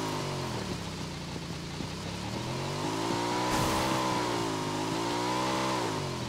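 Video game vehicle engine while driving: a steady mid-pitched hum whose pitch rises and falls gently as the car moves, continuous and fairly close with no talk.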